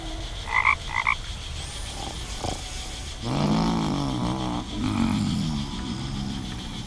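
In the game The Night of the Rabbit, a clicker frog croaks: two short bright chirps early on, then deep, rolling croaks that swell and repeat over a faint ambient bed.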